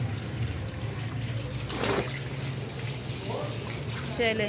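Dirty water drains from a washing machine hose in a steady low gush and trickle, running continuously close by, while a person speaks briefly over it.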